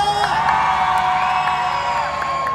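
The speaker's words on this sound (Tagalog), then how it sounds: "Isang malakas sa sigawan for Miss Chaya!" Audience at a live show in the Kabayan Night Market cheering and shouting together, a dense, steady roar of voices that stays loud throughout with occasional whoops poking out.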